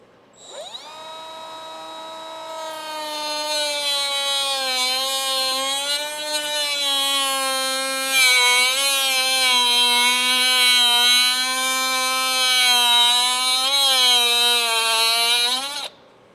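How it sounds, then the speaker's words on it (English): An air-powered body saw makes a vertical cut through a Toyota 4Runner bumper, giving a loud, steady, close pneumatic whine for about fifteen seconds. Its pitch wavers slightly under load before it stops abruptly, with no talking. "The air-powered body saw to do the vertical cut, connecting with the horizontal cut."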